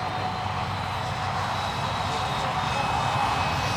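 EDF-powered radio-controlled model A-10 jet coming in to land at a jet meet, giving a steady whooshing ducted-fan whine that holds at moderate level without talk.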